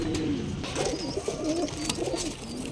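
Pigeons in a breeder's loft cooing in soft, repeated low rolling calls, close by, with faint background noise and no talking.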